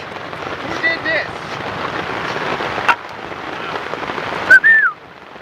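Steady rain pattering on surfaces at an outdoor bushcraft camp gathering in Texas, a continuous dense hiss close by with a few sharp drips and a brief whistle-like tone.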